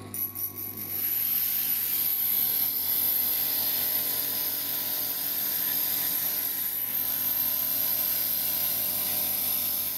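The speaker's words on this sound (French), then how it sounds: "on va meuler les côtés avec une meule spécifique qui est derrière" A glass grinder shapes the edges of stained glass pieces for Tiffany-style copper foil work, producing a steady, close whirring grind with a high ringing tone after a few brief irregular contacts at the start.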